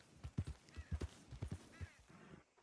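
Horse hooves clip-clop in a quick, uneven rhythm on a hard surface in the video game Red Dead Redemption 2, with a few faint higher sounds mixed in.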